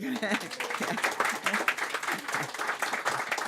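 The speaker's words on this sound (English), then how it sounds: "A round of applause." Applause from an audience at a writers' event, steady clapping with crowd noise throughout, fairly close and moderately loud.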